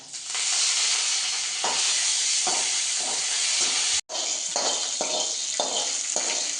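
Curry leaves and mustard seeds hitting hot coconut oil for a beetroot pachadi, a loud, constant sizzling hiss with bursts of spitting, broken by a brief gap near four seconds before the sizzle resumes.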